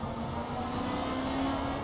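Car engine droning steadily with a sustained rising tone during a burnout to heat the rear tyres in the racing game Project Cars at Monaco, loud and continuous throughout.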